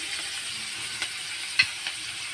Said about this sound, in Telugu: ఇది ఒక 2 మినిట్స్ బాగా వేగాలండి.